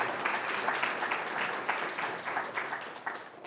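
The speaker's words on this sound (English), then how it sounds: "Now applaud the tiny robot." Lecture hall audience clapping for a tiny laser-driven robot demonstration, a steady patter of many hands that gradually softens, moderately distant.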